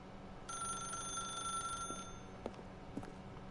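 A telephone rings in the video game The Stanley Parable: a steady electronic bell tone starts about half a second in, holds for around a second and a half, then stops, leaving faint background noise and a few soft clicks.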